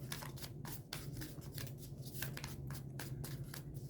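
Tarot cards are riffled and shuffled in rapid, crisp bursts of flicking and rustling, close up and quiet, with a low steady hum behind.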